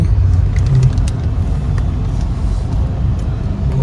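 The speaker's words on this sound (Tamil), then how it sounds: "வண்டி எடுத்தாச்சு டெலிவரி போயிட்டுருக்கோம் புது வண்டியில் போயிட்டுருக்கோம்" A new car drives along the road, a loud, steady low engine and tyre rumble heard from inside the cabin, with faint ticking above it and no talk.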